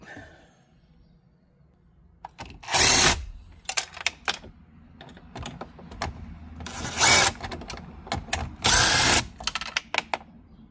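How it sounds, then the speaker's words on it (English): A power driver with a 7mm socket backs screws out of a Ford Mustang dash during a car stereo install, giving three loud whirring bursts between clicks and ratcheting handling noises. "You will need a 7mm socket to get these screws out"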